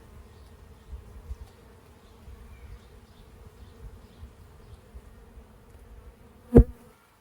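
A steady low buzz of honeybees and drones at a beehive hums throughout, with a sharp knock near the end.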